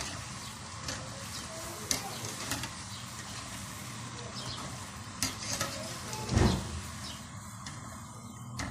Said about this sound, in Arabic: انا هحمرها نص تحميره، مش هحمرها قوي اهي